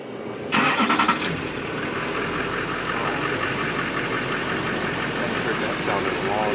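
Diesel pickup truck engine cranking and catching, then settling into a steady, rough, knocking idle that continues at close range, with a couple of faint clicks over the running engine.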